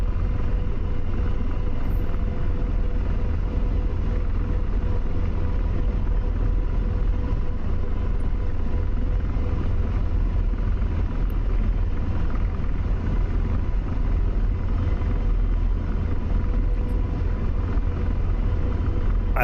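An AH-64 Apache helicopter lifts off in the DCS flight game with a steady, loud, low rotor and turbine rumble that holds unbroken for the whole stretch, with no talk.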